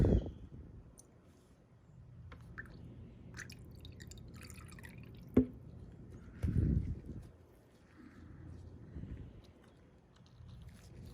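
Water poured into a Keihin PD carburetor from a 1991 Honda XR250L drips and trickles in soft, irregular patters, with a few sharper taps and a brief splashy burst partway through, quiet and close.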